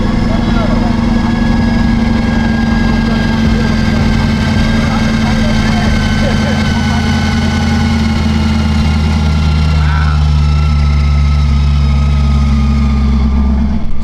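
A supercharged Chevrolet Corvette C8 idles close by with a steady, deep low rumble that holds through the whole stretch, while voices murmur faintly in the background.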